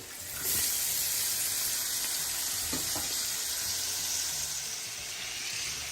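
Shredded cabbage hits a hot pan for an egg and cabbage fry and bursts into a loud, steady hiss and sizzle that holds for several seconds, with a couple of soft stirring knocks partway through.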